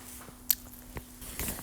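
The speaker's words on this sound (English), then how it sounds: "Now we give it a good mix." Curry being stirred with added water in a pot for kadhi pakoda, giving soft wet squishing and sloshing with a few brief clinks, fairly quiet and close, with no talk.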